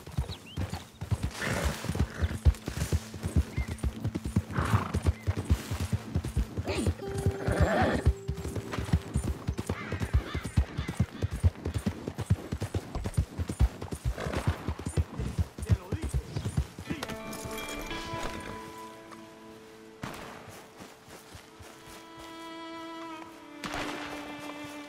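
Horse hooves clip-clop and gallop in a steady, driving rhythm in the Red Dead Redemption video game, with a neigh and game music rising toward the end while a voice urges the horse on.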